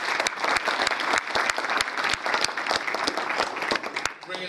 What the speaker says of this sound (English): a round of applause for Jessica and her staff for doing